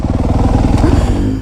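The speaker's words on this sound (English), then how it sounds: "I just heard the two-stroke" Two-stroke dirt bike engine revving loud and close in a steady throbbing drone, with a brief rising rev near the middle and some clattering thumps.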